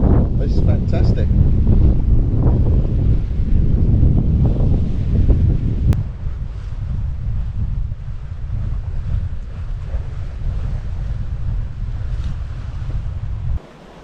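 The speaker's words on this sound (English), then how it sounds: "Things are getting a little bit more bouncy now as we're losing the protection of land and we're getting bigger and bigger wind waves" Strong wind roars and waves slosh around a sailing boat making good speed at sea, a loud constant rush across the whole stretch, with one sharp knock midway.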